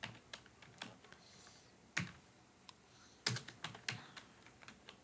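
Typing code on a computer keyboard during a WordPress development tutorial: soft, scattered clicks in small irregular clusters with pauses between them, close and fairly quiet, with no talking.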